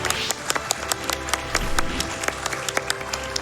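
Crowd applause and clapping at a live speedrun marathon event, greeting a runner; dense, steady clapping with sharp individual claps standing out, moderately loud and filling the room.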